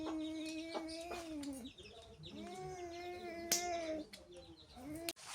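A hen clucks among her chicks in a rural yard, a series of soft, quiet calls with short pauses between them and a few sharp sounds near the end.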